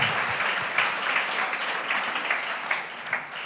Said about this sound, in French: Clap your hand if you agree.